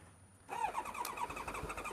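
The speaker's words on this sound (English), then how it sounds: "Turn the ignition on first. It might just start." A Japanese classic sport motorcycle engine cranks and catches after a short quiet pause, settling into a rough, rapid, close idle that runs steadily to the end.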